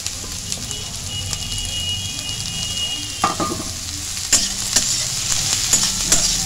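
Chopped carrot, chilli and tomato sizzle over lightly fried onions in a pan for veg Maggi, with steady frying hiss and intermittent sharp scrapes of a spatula stirring nearby.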